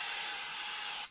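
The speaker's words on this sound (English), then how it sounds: "We're going to clean anything else off with a little bit of carb cleaner, so just a quick spray down here." A steady, loud aerosol spray of carb cleaner on an Arctic Cat snowmobile power valve hisses continuously for about a second, then cuts off abruptly.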